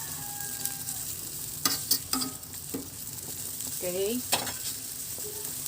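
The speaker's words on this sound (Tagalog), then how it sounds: "At kumukulo na." Chicken and potato broth boils in a pot with a steady bubbling hiss, broken by a few clinks of stirring and a brief spoken word.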